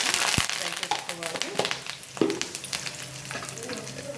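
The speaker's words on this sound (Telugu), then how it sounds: "ఒకసారి ఇలా తిప్పుకొని దీనిలోకి కరేపాకు కూడా వేసుకొని" Curry leaves and dried red chillies crackle in hot oil for an Indian-style stuffed eggplant fry, a sharp pop at the start, then steady sizzling with scraping stirs and a few louder spits.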